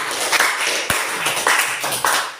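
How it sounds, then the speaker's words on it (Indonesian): A classroom of students clapping hands together during a teaching practice session, a short burst of scattered claps at close range with a voice audible underneath. "Tepuk tangan dulu untuk itu."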